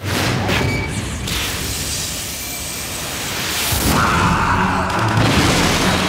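Heavy booming blasts and rumbling noise from explosions in the video game Wolfenstein, loud and dense, with a sharp burst near the end.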